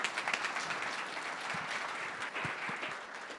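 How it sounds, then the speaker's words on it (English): An audience at a startup pitch event claps throughout, a steady dense applause with scattered sharper hand claps rising above the wash. "Round of applause for Wedding Zeta"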